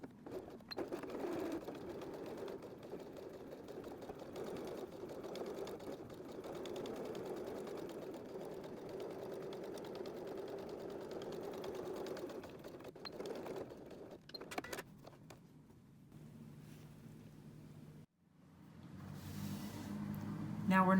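Sewing machine top stitching canvas at a lengthened stitch, a steady rapid mechanical whir running continuously for several seconds, then slowing and stopping with a few softer clicks, with a quiet voice at times.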